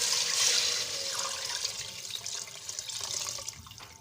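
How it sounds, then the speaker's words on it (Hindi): One litre of water pouring steadily into a pressure cooker with chicken and spices, a running splashing flow that gradually thins toward the end, close by with no talking. "एक लीटर पानी डालेंगे हम इसमें"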